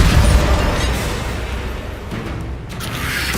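Hogwarts Legacy video game spell effects: a loud, continuous rumbling blast that rolls on for several seconds, with bursts and whooshing crackle over a heavy low roar and no voices.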